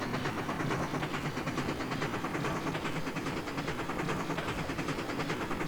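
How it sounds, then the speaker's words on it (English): MNRR T-3 4-6-0 steam locomotive in Trainz 2019 chuffing at speed, a dense, loud, rapid rhythmic exhaust beat with steady mechanical rumble throughout and no voices. "that chuff sound is not my favorite"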